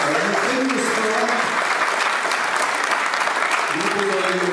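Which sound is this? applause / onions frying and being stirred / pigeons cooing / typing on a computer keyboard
applause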